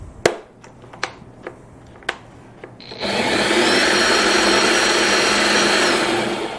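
A few sharp clicks and taps, then the electric motor of a Superwinch Hand Hauler portable winch whirs loudly and steadily for several seconds with a high whine on top.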